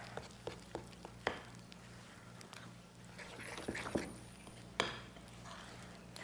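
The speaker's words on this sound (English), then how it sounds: "So we're going to mix this all together." Oats, bananas, applesauce and honey stirred together in a bowl, soft scraping and occasional clinks of a utensil against the dish, faint and close over a low steady hum.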